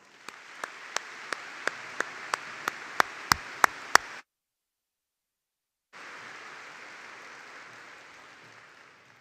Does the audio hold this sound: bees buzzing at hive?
no